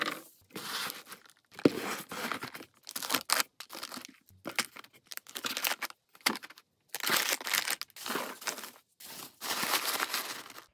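Candy order being packed into a box: repeated bursts of crinkling and crumpling wrappers and packaging, rustling and tearing in short irregular spurts separated by brief pauses, close and moderately quiet with no talking.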